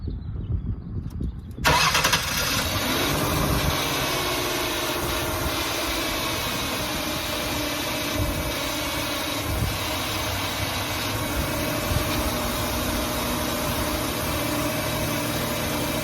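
A 2005 Ford Taurus engine cranks briefly after a quiet moment, catches and settles into a steady, close idle that runs on for the rest of the clip.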